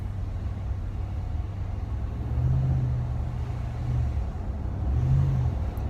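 A RAM truck rolls along the road with a low, continuous engine and exhaust rumble that swells slightly in a few spots, heard from inside the cab with no talking.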